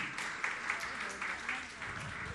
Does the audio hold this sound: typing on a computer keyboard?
no